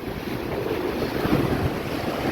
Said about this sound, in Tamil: அந்த வேவ்ஸோட சவுண்டு எனக்கு ரொம்ப பிடிக்குங்க